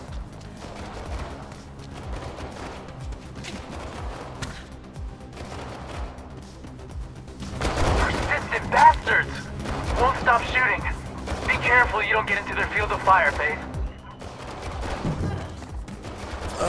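Enemy gunfire in Mirror's Edge Catalyst: scattered shots early, then a louder burst of rapid automatic fire in the middle, overlapping clattering movement, with someone talking throughout.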